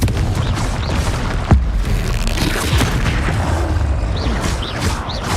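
Explosions from the Confringo blasting spell in the Hogwarts Legacy video game: a loud, dense, rumbling barrage of booms with one sharper blast standing out, continuous and without talk.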